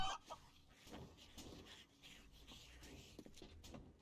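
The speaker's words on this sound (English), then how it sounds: "This is the chicken club, where you go clubbing for chickens." Chickens clucking in the survival video game 7 Days to Die, several short close clucks repeating over a busy game background.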